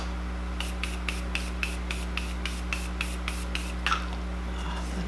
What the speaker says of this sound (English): We're gonna use the Morphe Continuous Setting Spray first to just hydrate the skin.